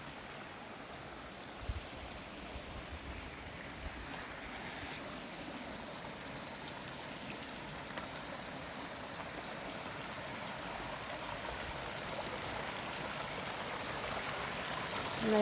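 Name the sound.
brook flowing in the woods of Northern Maine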